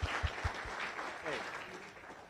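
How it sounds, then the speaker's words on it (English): Applause from visitors and guests at a Rotary club gathering, a few distinct claps opening into a soft, steady patter that fades gradually, heard at moderate distance. "could you join me in the round of applause for all of our visitors and guests, please?"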